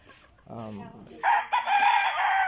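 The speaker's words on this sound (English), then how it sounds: "You have some chicken here actually." Chickens kept in a cage at a Filipino house, with a rooster crowing loudly and close, preceded by clucking.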